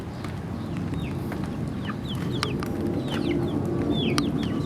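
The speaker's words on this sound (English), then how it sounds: "Chickens." Backyard chickens cluck and call in a steady scatter of short chirps near a rabbit hut, with a constant low rumble of wind or machinery beneath and no talking.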